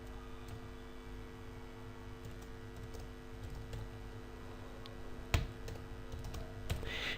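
Someone types an email address on a computer keyboard, a steady run of soft, quick key clicks over a constant background hum, with one sharper tap near the end.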